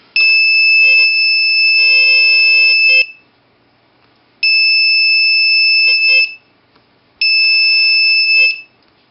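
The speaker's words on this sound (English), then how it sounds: "change our actuator to our buzzer" An electronic buzzer sounds in three long, shrill, steady blasts separated by short silences, loud and close.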